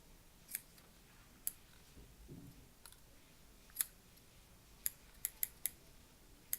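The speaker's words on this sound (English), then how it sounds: "let's try and trim off the excess edges here" Scissors snipping excess coil wire on a dual-coil RDA, a quiet, close series of sharp metallic clicks spaced unevenly, a few in quick succession near the end, no talking.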